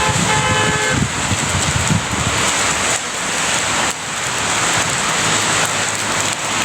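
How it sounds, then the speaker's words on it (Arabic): Steady rain falls across the streets of Rabat, Morocco, a continuous broadband hiss of drops on pavement with faint traffic rumble underneath, loud and unbroken throughout. "امطار خير."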